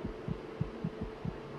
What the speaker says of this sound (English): look at the heartbeat though, it's amazing